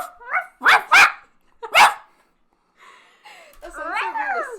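A person imitates a dog barking, several sharp voiced barks in quick succession, then a pause and a longer whining, wavering dog-like howl, close and loud.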